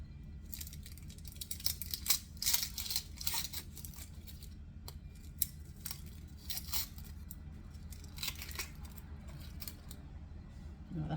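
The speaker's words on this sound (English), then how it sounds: "I'm still going to cut my onion. You want the onion cut fine." A knife chops an onion finely on a cutting board, a close, steady run of crisp chopping clicks and scrapes over a low background hum.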